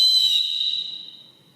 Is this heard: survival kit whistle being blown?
yes